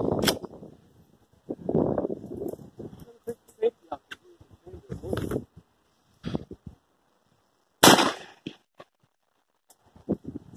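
Micro Draco pistol shots fired over a chronograph outdoors, a few sharp loud cracks spaced apart between stretches of nearby talk.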